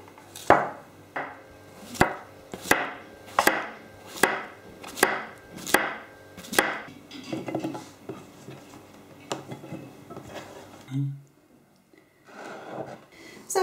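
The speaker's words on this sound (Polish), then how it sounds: "Pieczarki kroję w plasterki." A knife slices mushrooms on a cutting board in about eight sharp, evenly spaced knocks, and then quieter, softer handling sounds follow without voices.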